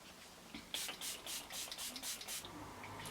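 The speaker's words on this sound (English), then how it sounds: "Now we're going to go back in and lock this whole look with our setting spray." Makeup setting spray misted over a finished face, about six or seven quick hissing pumps in a row, close and fairly soft.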